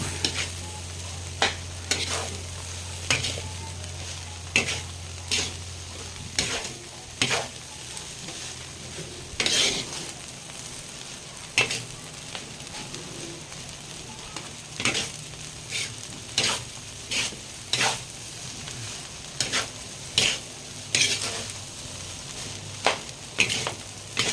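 Chaopan fried rice with hotdog, chorizo and ham sizzles in a pan while a metal spatula scrapes and clacks in an irregular rhythm, close and fairly quiet, over a low hum that fades after a few seconds.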